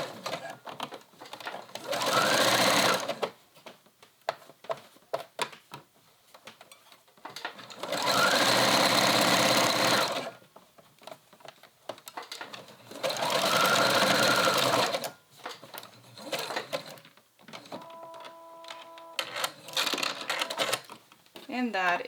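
Domestic sewing machine basting the elastic edge of a romper, three long bursts of fast, steady stitching whirring loudly, separated by quieter pauses with small handling sounds.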